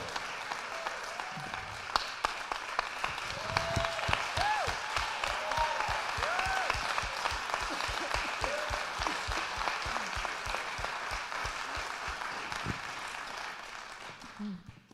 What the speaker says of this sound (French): Si el aplauso es para el Señor, se lo damos más fuerte.